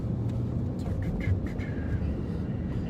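Cars drive by on Thomas, eastbound from Dale, during a sheriff's patrol, giving a steady traffic rumble with a few passing whooshes heard from inside a vehicle, with no talking.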